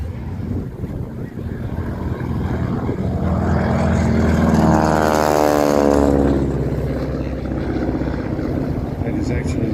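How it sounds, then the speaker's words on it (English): At the Warbirds over Wanaka airshow, a large propeller aircraft passes close with its prop tips going transonic. The rising, sweeping buzz swells loudly to a peak and then recedes, with wind noise and a commentator talking underneath. "That is actually the sound of those prop tips going transonic"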